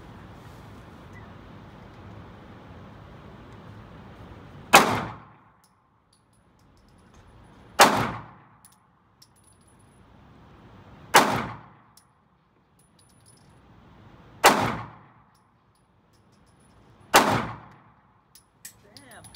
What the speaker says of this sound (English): This is my wife shooting the Hellcat.